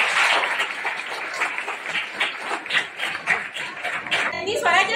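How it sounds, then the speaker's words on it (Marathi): Students and staff clap together at a school's Shivaji Maharaj Jayanti celebration, a dense, continuous round of applause throughout, with a voice briefly rising near the end. "टाळ्या वाजवायच्या आहेत"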